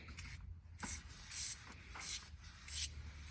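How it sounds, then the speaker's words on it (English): An aerosol can sprays cleaner onto sticky agricultural grease on tractor grease zerks, four short close hissing bursts with brief pauses between them. "So we're just going to take the aerosol can here and just,"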